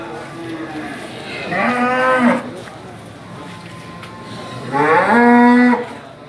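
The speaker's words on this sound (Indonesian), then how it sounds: "Juga jadi sapi-sapi muda diperdagangkan di sini." Two long, loud cattle moos close by at a livestock market, each lasting under a second, separated by a pause of roughly three seconds.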